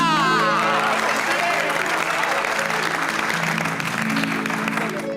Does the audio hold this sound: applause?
yes